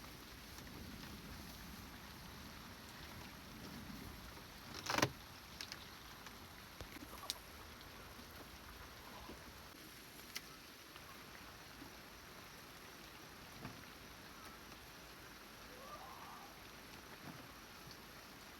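Rain falls steadily and without pause on a farm field shelter, a soft continuous patter with one sharper knock early on and a few faint taps scattered through.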